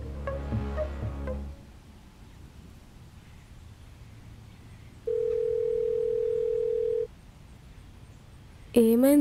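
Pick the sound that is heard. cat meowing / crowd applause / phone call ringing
phone call ringing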